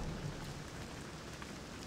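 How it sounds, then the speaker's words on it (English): Steady rain hissing during a thunderstorm in the stealth video game Thief, a dense, even wash of drops at constant loudness with faint low rumbling beneath and no distinct thunder crack. "It's thunderstorm."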